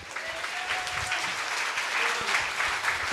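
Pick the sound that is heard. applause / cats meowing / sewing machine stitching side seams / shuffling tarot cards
applause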